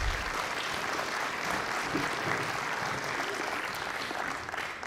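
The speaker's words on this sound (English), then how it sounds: "Please once again join me in giving these dedicated leaders a round of applause" Crowd at the Fairfield Area Chamber of Commerce 2017 annual awards banquet applauds the honorees, with dense, steady clapping that holds at an even level throughout.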